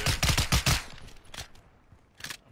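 Video game shooter gunfire: a dense rapid burst of shots in the first second, then a lone shot near the middle and another short burst toward the end, fairly close and loud with no talking.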